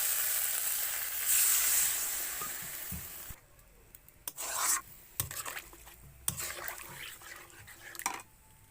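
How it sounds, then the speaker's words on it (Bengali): Potatoes and pointed gourd sizzle loudly in a pan, then water goes in and the frying drops to a quieter hiss broken by a few sharp scraping and clattering bursts. "পটল আর আলুটা কষা হয়ে গেছে আমি এবার জল দিয়ে দিচ্ছি"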